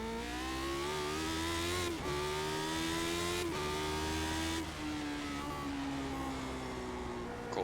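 A Lotus 79 Formula 1 car engine in the iRacing sim screams through repeated upshifts, pitch climbing then dropping at each gear change, loud and continuous with no talk.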